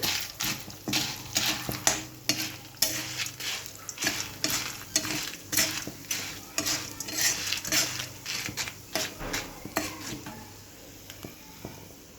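Dried red chillies and curry leaves fried in a pan for an Andhra-style karivepaku podi give a soft frying hiss beneath a steady rhythm of utensil scrapes and clinks from repeated stirring, close and fairly loud, with no talk.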